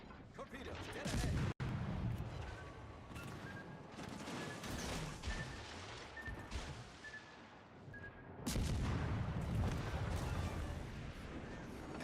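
Naval ship guns boom in a warship battle, with heavy bursts, mechanical clanks and rumbling impacts mixed with in-game radio voices and speech, and a loud salvo near the end.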